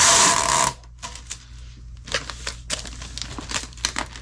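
Packing tape drawn and wrapped around a shipping package, a loud ripping pull at first followed by softer crinkling and tape rustle in close, uneven bursts.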